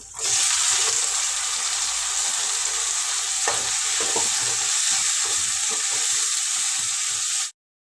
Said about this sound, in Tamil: இப்போ ஒரு ரெண்டு தக்காளி நறுக்கி பொடியாக சேர்த்துக்கலாம்